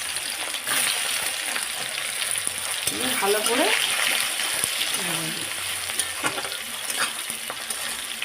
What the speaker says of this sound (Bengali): লঙ্কা তেজপাতা আমি দিয়ে দিলাম পেঁয়াজটা আমি দিয়ে দেব